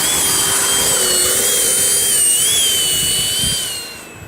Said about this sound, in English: Taxiing for takeoff.